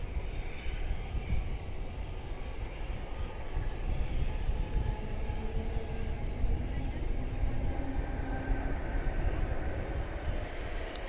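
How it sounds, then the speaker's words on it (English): An Airbus A320neo airliner at DFW Airport at night gives a steady, moderately loud jet roar that holds through the whole stretch, with a speaking voice in the background. "It's an Airbus A320neo."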